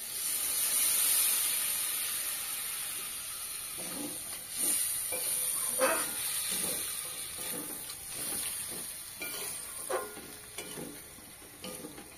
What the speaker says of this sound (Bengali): এবারে দেখুন সেদ্ধ করা কাবলি ছোলা দিয়ে দেবো।